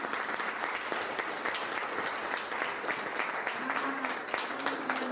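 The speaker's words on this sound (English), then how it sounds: "Let's have a big round of applause for our panel" Round of applause for a panel at a customer success executive roundtable, continuous crowd clapping with a few voices mixed underneath, steady and fairly close throughout.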